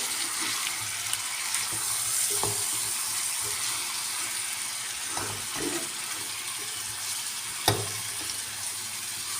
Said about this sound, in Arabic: وهنا الدجاج نخليه يتقلى مليح